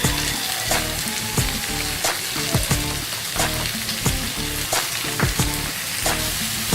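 Boiled chana dal and tomatoes with karela (bitter gourd) hit a hot pan in a loud, close, continuous sizzle, punctuated by frequent rhythmic spatula clicks and scrapes, with no voices.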